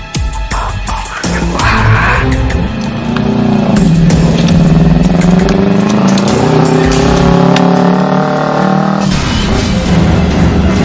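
A new motorcycle's engine revs and accelerates close by, a loud throbbing drone that rises in pitch and holds steady as it rides off, with no voices.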